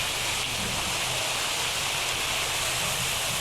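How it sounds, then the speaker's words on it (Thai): A waterfall at Phaya Nak cave gives off a constant, loud, broad rush of falling water that never lets up, with no voices. "นี่คือน้ำตกที่อยู่บนถ้ำถ้ำพญานาค"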